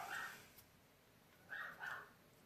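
Dogs bark faintly in the distance, three short muffled bursts, one at the start and two close together near the end, in an otherwise quiet indoor room.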